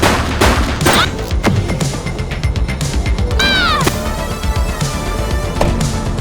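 Gunfire during a police arrest in The Precinct, set in Averno City: a rapid, loud volley of sharp close shots and cracks, followed by ringing ricochet-like whines and scattered further bangs.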